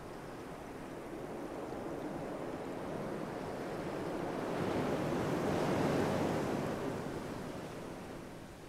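Ocean waves wash in a steady, continuous surf roar that swells slightly in the middle before easing off, with no voices present.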